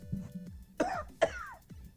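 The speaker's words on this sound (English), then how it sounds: "Turn head and cough twice." Two sharp, close coughs ring out a fraction of a second apart, with quiet rustling before them and the start of another cough at the end.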